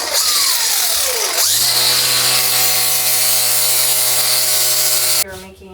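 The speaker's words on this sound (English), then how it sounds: "I'm going to have to grind it down with my grinder" A grinder works loudly and steadily on a metal outlet part during a boat rebuild, its whine starting high, dropping, then holding a constant buzzing drone for about five seconds before cutting off abruptly.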